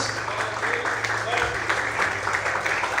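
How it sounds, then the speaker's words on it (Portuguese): A church congregation at a worship service claps in a dense, moderate patter that carries on steadily, with a voice faintly present underneath. "Você pode aplaudir e glorificar o Senhor."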